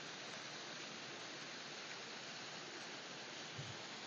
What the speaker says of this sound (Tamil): இதுதான் வாட்டர் ஃபால்ஸ்